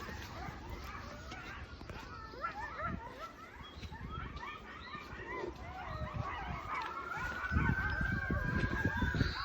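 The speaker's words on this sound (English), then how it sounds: "The sirens were driving up the hill and the coyotes thought it was time to make noise." Coyotes howling and yipping on a hillside in answer to emergency sirens driving up the hill, wavering cries rising and falling over distant siren wail, with dogs and people talking nearby.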